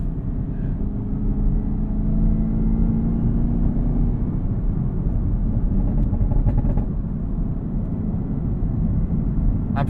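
A 2021 Camaro ZL1 is driven hard through corners, its engine a loud, steady low rumble for the whole stretch, with a few brief higher tonal swells partway through and no talk.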